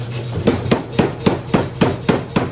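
A blacksmith's hammer forges hot metal on an anvil, about eight loud, close, evenly spaced strikes in a steady rhythm, with no talking.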